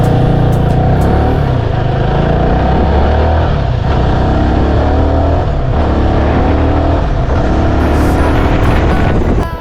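A CFMOTO 300NK motorcycle rides with its engine loud and steady, revving through gear shifts with brief dips and surges as the pitch climbs and falls, close up and continuous with no talking.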